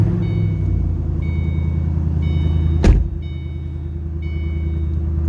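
A 2008 Ford Mustang Bullitt with a Borla exhaust idles with a steady low rumble while a high warning chime beeps on and off in short bursts, with one sharp knock partway through.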